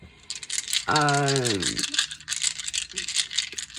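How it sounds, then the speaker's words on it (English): Dice rattle during a tarot card reading, giving quick clattering bursts close by while a person talks over them, with one drawn-out vocal sound partway through. "Sorry about the noise for these dice"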